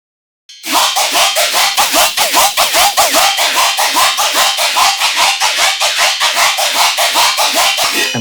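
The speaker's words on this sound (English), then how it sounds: "And of course the delay effect, it does the RIDDIM effect." A heavy riddim dubstep bass with a delay effect, rapid gritty rhythmic pulses repeating evenly and loudly after a short silent start, harsh and noisy throughout.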